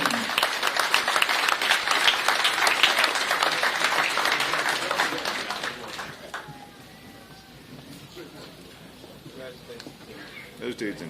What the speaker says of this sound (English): Big round of applause for those receiving this Exceptional Merit Commendation.